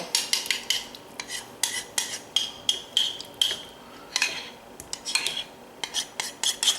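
Egg-sugar and chocolate mixtures scraped from containers into one bowl, a run of quick, close clinks and scrapes of a utensil against the bowl in uneven bursts.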